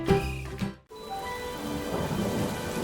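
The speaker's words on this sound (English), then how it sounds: "Peppa and George ran outside to play as the rain started." Rain begins to fall in a cartoon garden: a short musical phrase cuts off, then a steady hiss of rain with low thunder-like rumble fills the rest.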